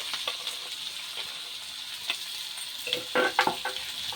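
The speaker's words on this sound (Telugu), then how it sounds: "ఆయిల్ బాగా మరిగాక కొద్దిగా జీలకర్ర ఆవాలు వేసుకొని ఆనియన్స్ కట్ చేసుకున్న ఆనియన్స్ ఇందులో వేసి ఫ్రై చేసేసేయాలి" Chopped onions frying in hot oil with cumin and mustard seeds, a continuous close sizzle with crackling pops and a burst of stirring scrapes near the end, no voices.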